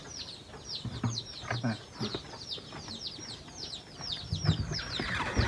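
Chickens cluck and chatter in repeated short calls at a morning feeding in a village farmyard, several birds close by with scattered shuffling and knocks around them.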